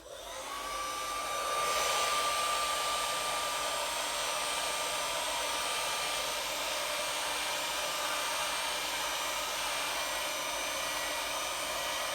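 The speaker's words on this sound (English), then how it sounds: "Okay, the heat gun first. Just gonna use low." A heat gun on its low setting blows over resin coasters, a steady close whoosh that swells during the first two seconds and then holds evenly with a thin high whine running through it.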